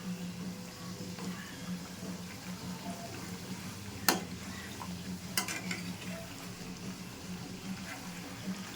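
Khaja pastries deep-frying in hot oil, a steady close bubbling sizzle with faint stirring, broken by two sharp metallic clatters as the pastries are flipped.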